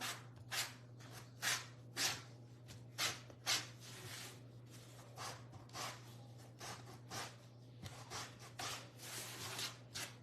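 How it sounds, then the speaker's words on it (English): Light hand-sanding along the edges of a painted wooden cottage décor piece, a series of short rasping strokes in uneven bursts, close and fairly quiet over a steady low hum. "kind of sand some areas just to kind of give it a little highlight look"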